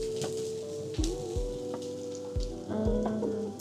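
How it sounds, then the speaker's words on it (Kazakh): Carrots and onions fry in a pan as their water cooks off, producing a crackling sizzle broken by a few dull knocks and clinks from stirring, with no speech. "Қазір осы суы шығып, қуырылып жатқан біздің сәбізіміз, пиязымыз"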